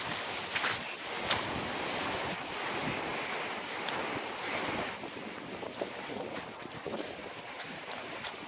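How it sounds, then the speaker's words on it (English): Strong hurricane wind from Hurricane Ian roars steadily outdoors, a dense rushing gust noise with microphone buffeting and occasional louder bursts, continuous and close throughout. "Yeah, the wind's getting pretty bad."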